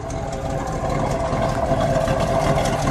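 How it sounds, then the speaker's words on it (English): A 1967 Oldsmobile Toronado with a front-wheel-drive 425 cubic-inch V8 idles steadily through dual exhaust with a transverse single muffler, a smooth, continuous low rumble heard close up with no talking. "let me listen to it idle for a second"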